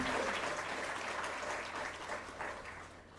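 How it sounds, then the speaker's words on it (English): Audience applause at a Ministry of Earth Sciences foundation day celebration, a dense steady wash of clapping from a large hall crowd that tapers slightly toward the end, with no voices over it. "I wish to give a big round of applause to each and every one."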